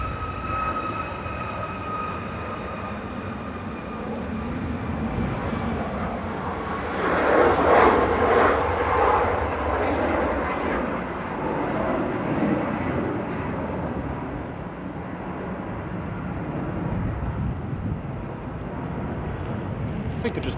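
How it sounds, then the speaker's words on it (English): Ryanair jet departing Manchester Airport for Krakow, heard as a steady distant engine roar that swells in the middle and then holds, with a voice talking over it at times. "Ryanair departing to Krakow now with flight 2141."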